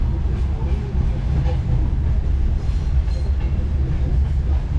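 Interior ride on a single-car passenger train hauled by a 2TE10U diesel locomotive between Samara and Buzuluk, with a steady low rumble and faint wheel clatter on the rails.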